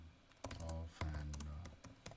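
Keys clatter on a computer keyboard in quick, quiet bursts of typing separated by short pauses.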